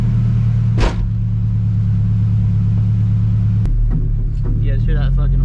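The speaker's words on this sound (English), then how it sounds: "You guys hear that fucking welded diff, boy?" A Nissan S14 240SX with a welded differential rumbles steadily nearby, its engine note shifting and dropping in pitch partway through as it pulls away, with a brief sharp bump early on and some clatter and voices toward the end.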